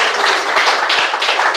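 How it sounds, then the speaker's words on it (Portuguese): Congregation at a church service clapping hands in a steady, continuous patter of many hands, fairly loud and close, with no voices heard. "Bate palmas."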